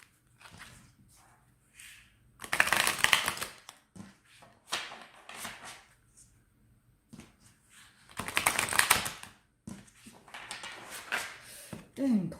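Playing cards are shuffled for a tarot-style card reading, two loud riffling bursts with softer card handling and shuffles in between, while a person speaks French near the table.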